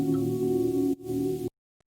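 A synth pad from a remix holds a dense, warm low-mid chord, briefly dips near the middle, then resumes before cutting off abruptly, leaving a short silence at the end.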